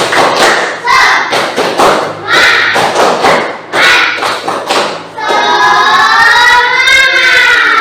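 A class of children performs a spirit clap, with fast, patterned rounds of loud group clapping close by, then everyone shouts together in one long cheer.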